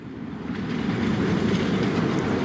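A miniature railway train on the Romney Hythe and Dymchurch Railway, pulling a long train, rumbles along the track nearby, with rhythmic clickety-clack of wheels building slightly in loudness over a steady low roar.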